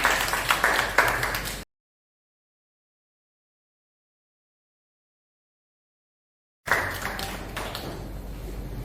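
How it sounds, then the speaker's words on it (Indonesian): A classroom group claps briefly after a student presentation, then there is a stretch of silence before a second round of applause starts. "Kita beri tepuk tangan."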